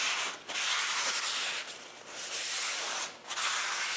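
Brake cleaner is sprayed into the side of a rear brake drum during a brake overhaul. It makes a close, steady aerosol hiss in several long bursts, separated by brief pauses.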